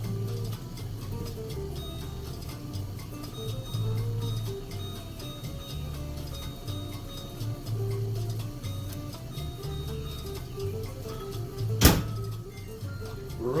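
A microwave oven heats a Totino's Buffalo Style Chicken Pizza with a steady low mechanical hum and faint ticking, alone in a quiet room, ending with a sharp click near the end.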